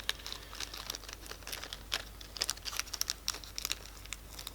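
Thick sheet of selector plate stickers for a Gate Titan V3 airsoft gun being handled, giving close, steady crinkling and crackling with scattered sharper crackles and peel-like ticks throughout, no talking.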